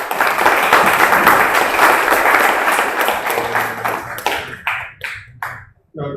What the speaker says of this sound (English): So round of applause for everyone.